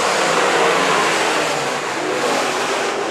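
Race car engines roar through a heat race at Antioch Speedway on New Year's, a loud, continuous, dense engine wash that swells slightly and then holds steady, with no talk over it.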